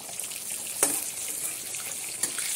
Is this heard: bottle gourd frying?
yes